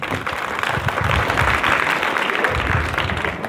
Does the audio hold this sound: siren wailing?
no